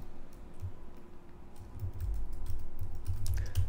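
Fingers type HTML code on a computer keyboard, a quick run of soft clicking keystrokes that grows busier halfway through, close but fairly quiet over a low steady background hum.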